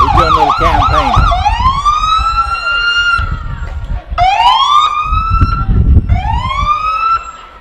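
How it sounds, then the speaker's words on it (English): A Hooker police car's siren passing in a small-town Pioneer Days parade: loud, close wailing tones that rise and fall in repeated sweeps, with a brief quick yelp at the start over a low engine rumble. "That's the first time I've ever seen a Hooker police car."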